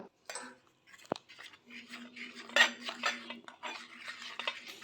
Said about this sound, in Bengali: ময়দার মধ্যে একটু জল মিশিয়ে এবার এটাকে ফেটাবো